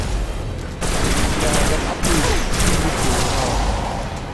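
Rapid bursts of gunfire in the video game Destiny, dense loud volleys with sharp cracks around one and two seconds, under a brief spoken word.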